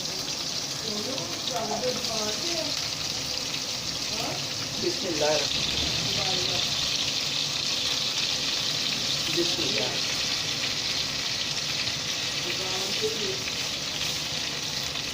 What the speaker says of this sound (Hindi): ये मैंने पोटैटो इसमें सारे डालकर अच्छे तरीके से थोड़े से लाइटली इनको फ्राई करना है